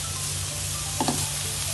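A Schezwan suji mixture cooks in a pan with a constant loud, hissing sizzle, broken by one short stir or scrape partway through.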